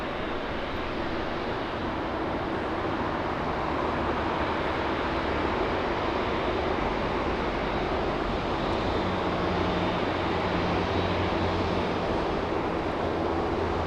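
A Boeing 747 taxiing at Los Angeles International Airport, a steady broadband jet engine roar with a low rumble, continuous and fairly distant for the whole stretch.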